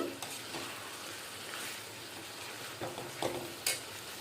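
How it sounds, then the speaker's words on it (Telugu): Goat tripe fries with ginger garlic paste in a pan, a soft steady sizzle under repeated scraping stirs and a couple of sharp utensil clinks near the end. "ఈ పొట్ట కూడా ఇందులో వేసుకుని బాగా బ్రౌన్ కలర్ వచ్చే వరకు వేయించుకోవాలండి"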